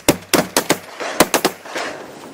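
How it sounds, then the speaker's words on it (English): Shotguns fire during a Louisiana duck hunt outdoors, a rapid volley of about seven loud close blasts in quick succession, some overlapping, followed by a fading rumble. "If they come over, shoot. Shoot it."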